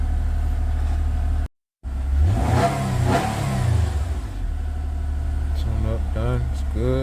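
After a tune-up with new spark plugs, a 2010 Nissan Maxima engine starts and revs up and down several times, loud and close, with someone talking over the rising and falling engine note.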